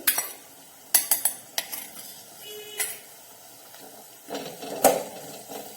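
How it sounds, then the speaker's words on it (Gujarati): Chopped onion, crushed green chili, ginger and garlic sautéing in a pan for a mixed vegetable curry, with a soft sizzle under repeated sharp clacks and scrapes of a spoon stirring against the metal pan, no voices. "ને આને પણ આપણે એક મિનિટ માટે ફરી સાંતળી લઈશું"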